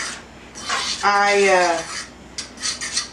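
Hands rub and toss flour around inside an old family biscuit bowl, a soft, close rasping and brushing that swells in the middle, with a brief tonal voice-like sweep partway through.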